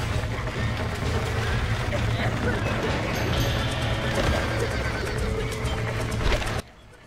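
Horses in the Western video game Red Dead Redemption whinny and move about a barn, a dense continuous mix of neighs and hoof noise alongside game ambience, ending abruptly in near silence.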